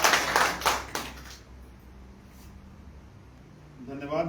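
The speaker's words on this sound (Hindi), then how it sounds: "एक बार सभी लोगों के लिए 10 तालियां बजा लें।" A group at a business meeting claps in a quick, rhythmic burst of about a second, loud and close, then falls quiet before a voice begins speaking.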